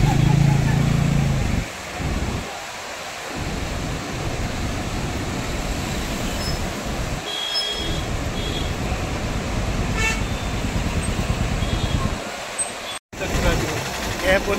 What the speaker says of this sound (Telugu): Full traffic jam.